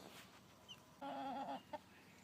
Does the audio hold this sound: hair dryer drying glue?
no